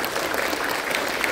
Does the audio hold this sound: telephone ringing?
no